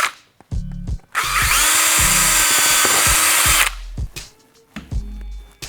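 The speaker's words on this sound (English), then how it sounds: "you just need to drill it out to the 1/2 inch size" A power drill with a uni bit whines loudly and steadily for a few seconds, drilling a hole out to 1/2 inch, with brief bursts of drilling and clunky handling noises before and after.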